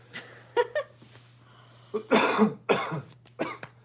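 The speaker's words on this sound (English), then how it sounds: "Okay, I have to cough." Several harsh coughs in quick bursts, close and loud, after a couple of short throat sounds, with quiet gaps between.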